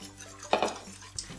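Pudding mixture is stirred into boiling milk in a pot. A utensil scrapes and knocks against the metal in a couple of quick clinks over a faint bubbling background, with no talking.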